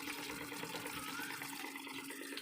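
Water rushes steadily from the output of a salt water filter into a tank, a faint, continuous hiss and splash with no voices.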